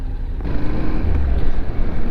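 A Honda NC700X motorcycle engine drones steadily at low revs while riding, a continuous close rumble mixed with road and wind noise.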